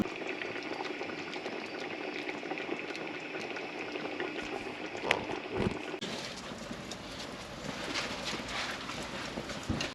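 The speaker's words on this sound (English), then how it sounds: "the tomatoes have been cooking slowly for the chutney over many hours" Tomatoes for chutney simmering slowly in a pot outdoors beside a barbecue, a soft, continuous bubbling heard alone at low level, with a few brief knocks midway.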